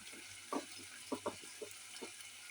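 Tomatoes sautéing in a pan give a soft, steady sizzle, with several brief scraping stirs, near and fairly quiet.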